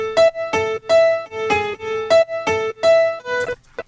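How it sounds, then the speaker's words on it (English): A piano lead plays in a progressive pop arrangement built in Ableton Live, with bright, distinct, evenly spaced notes struck one after another, loud and clear, with no voices. "now for our leads, we really want a piano to be the focus"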